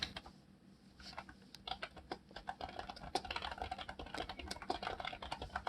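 Rapid typing on a computer keyboard, a quick irregular patter of key clicks close by, starting sparse and becoming steady and busier.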